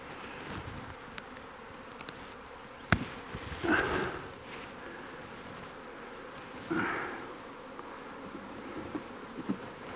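A swarm of wild honey bees hums faintly in the bush, a soft continuous buzz with a few closer passes swelling briefly, no voices.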